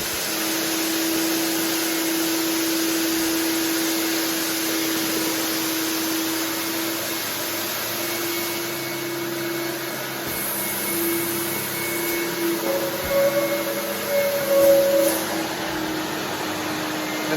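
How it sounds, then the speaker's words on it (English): A floor cleaning machine extracting rinse water from Karndean or Amtico vinyl flooring, a loud continuous vacuum-like roar with a steady whine that holds throughout. "Right, this is now the extraction stage."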